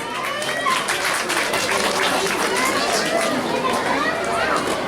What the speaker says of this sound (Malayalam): ഒരു നിറഞ്ഞ കയ്യടി നല്ലതാണ്.